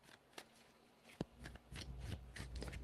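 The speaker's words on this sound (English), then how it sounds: "3 shuffles." Tarot cards riffle and slide in a close, quiet shuffle, with a sharp snap partway through and a denser rustle building toward the end.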